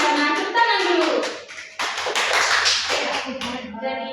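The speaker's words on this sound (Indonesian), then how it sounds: "Tepuk tangan dulu." Children in a classroom clap in quick, irregular bursts, close and fairly loud, while children's voices chatter over the clapping.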